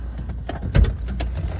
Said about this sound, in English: You can open up that door.